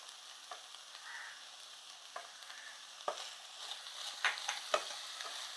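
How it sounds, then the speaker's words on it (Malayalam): Chopped spring onion stalks stirred in a pan make a faint, soft sizzle, with scattered scraping and tapping from a utensil that grows slightly busier toward the end. "അരിഞ്ഞു വെച്ചിരിക്കുന്ന ഉള്ളിത്തണ്ട അങ്ങോട്ട് ഇട്ട് കൊടുക്കുക നന്നായിട്ട് മിക്സ് ചെയ്തിട്ട് മൂടി വെച്ച് ഒന്ന് വേവിക്കാം"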